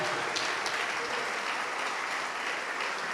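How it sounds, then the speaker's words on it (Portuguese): Congregation applauding during a church service, a steady dense wash of clapping from many hands that holds evenly throughout without any talk. "vamos aplaudir mais ao Senhor Jesus"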